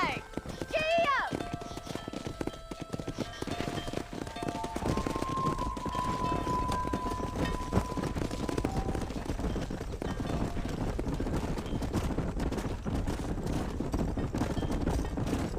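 Galloping horse hoofbeats pound steadily and close throughout a ride in Red Dead Redemption Remastered, opening with a brief neigh-like call over the rapid, continuous clip-clop rhythm.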